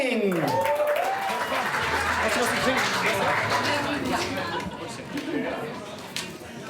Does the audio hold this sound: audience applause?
yes